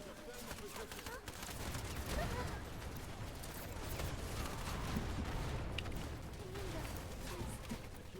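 Gunfire in the video game Wild Assault, a continuous dense fusillade of rapid shots and rattling bursts at steady volume, with faint voices underneath.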